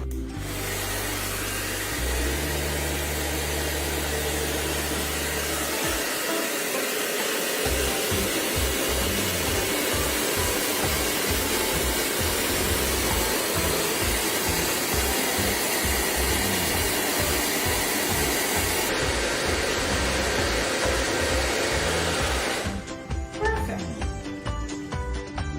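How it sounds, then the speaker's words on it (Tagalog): A heat gun or blower hisses loudly and continuously for about twenty seconds while sealing a jar, a steady airy roar that cuts off near the end. "Seal it using the blower or heat gun sealer if it's available."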